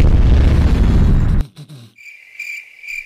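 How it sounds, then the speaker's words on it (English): A frag grenade blasts in a Warzone match with a loud, dense roar that cuts off abruptly, leaving a few faint thumps and a thin high electronic tone. "Frag grenade! Granáta!"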